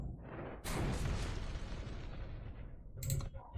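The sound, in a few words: mortar card attack effect in Eternal card game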